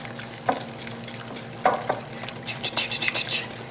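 A bowl of cardamom snap cookie dough is mixed by hand with a spoon, making irregular scraping and thudding strokes. They grow busier and more rhythmic toward the end, close and moderately loud with no speech.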